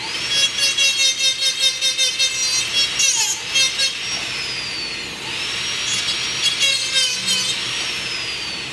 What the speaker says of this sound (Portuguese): Você realiza o desgaste com disco de carburundo.